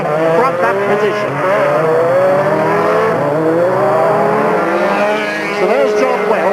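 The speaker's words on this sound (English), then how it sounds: "John Welsh in the Astra Vauxhall, who's giving us this high-speed ride around the circuit" Vauxhall Astra rallycross car at the 1989 Nutts Corner event, heard onboard at high speed: a loud, strained engine rising and falling through revs with tire squeal, a commentator talking over it throughout.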